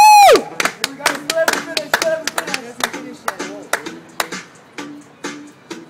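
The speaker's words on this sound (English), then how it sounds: "Can you clap, Stu? Clap it." People clap their hands in sharp, uneven claps, some loud and some fading, after a falling vocal whoop at the start.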